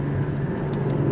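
A Porsche 718 Spyder's engine at full throttle on winding back roads: a brief, loud, steady, broadband roar heard from inside the car.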